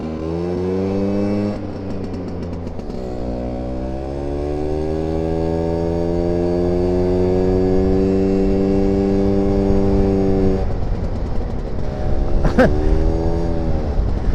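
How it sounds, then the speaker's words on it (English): A Vespa smallframe rat-bike scooter, running rich after its choke was pushed in, revs several times close by: a buzzing small engine climbs steadily in pitch, drops back, then sputters with a short sharp crack near the end. "I just pushed it in, so I'll rev it a few times, clear it out."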